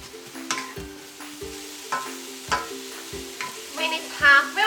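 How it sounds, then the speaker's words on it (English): Vegetables sautéing with garlic in a pan for Japanese-style pasta, steady close sizzle with repeated rhythmic scraping and stirring strokes of a utensil against the pan. "add all the vegetables and saute them until they are wilted"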